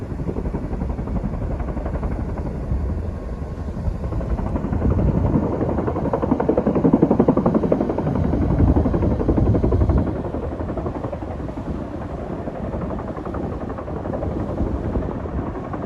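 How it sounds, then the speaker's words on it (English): A Chinook twin-rotor helicopter passes low overhead a couple of hundred feet up on a Snowdonia hike near Aber Falls, Wales, its loud rotor thrum swelling toward the middle and then easing as it banks away. "With that Chinook going about a couple of 100 feet above my head, and it's literally just coming back round now."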